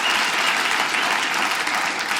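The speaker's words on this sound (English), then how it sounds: "Give them a round of applause for 35 years of wedded bliss." Audience at a stand-up comedy show applauding: dense, sustained clapping from a full room, loud and even throughout, with no talking over it.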